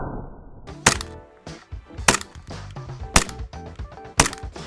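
A KJ Works airsoft pistol running on green gas fires four sharp, loud cracking shots at uneven intervals, each followed by brief mechanical clatter and gas hiss, with no talking.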